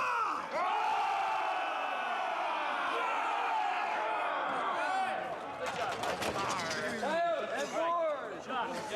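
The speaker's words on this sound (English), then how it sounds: "And when they lift the swords, we're all going to cheer." Film crew and extras on a Transformers: The Last Knight set cheer and shout together as swords are lifted, a loud, sustained crowd roar of whoops and yells lasting several seconds with overlapping voices.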